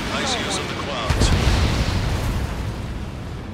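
Missile explosions in an aerial combat game, a few booming blasts and bursts over a dense roaring background, loud and close.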